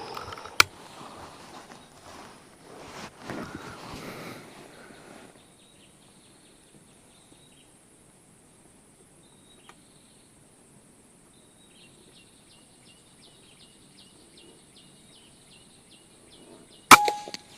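A B-Zad Klein VR-1 air rifle fires with a sharp, sudden crack near the start, followed by quieter handling noises and a long stretch of faint crickets chirping outdoors, then another sharp snap at the end.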